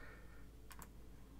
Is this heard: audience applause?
no